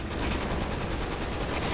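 Sustained gunfire in the video game Resident Evil 6, a dense, continuous rattle of shots like a fusillade, loud and steady throughout the short stretch with no talking over it.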